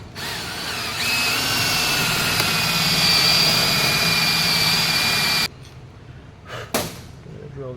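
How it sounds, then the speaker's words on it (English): A power drill whines steadily as it bores a 3/4 inch hole for a deck plate fastener for about five seconds, then stops, followed by a few quieter handling knocks. "we're going to drill these two holes right here."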